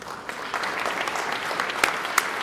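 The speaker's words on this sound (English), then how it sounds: "Please join me in applauding all 5 of this year's Gerald B. O'Connor recipients" Audience at an awards dinner applauding a group of honorees, a dense wash of clapping sustained throughout with a couple of sharper claps near the end, fairly close and loud.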